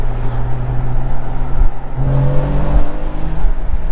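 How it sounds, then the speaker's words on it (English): A 2013 Porsche Boxster's naturally aspirated engine hums loudly and steadily, its pitch rising as it revs higher through the rev range, heard continuously from close by with no talking. "this car really sounds good, and once you get up in the rev range a little bit,"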